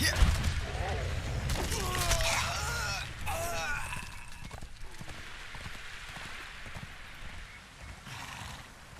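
A horse in Conan Exiles clip-clops with rhythmic hoof beats and gives a couple of loud whinnies, close by, amid crunchy game ambience, with hooves fading later on.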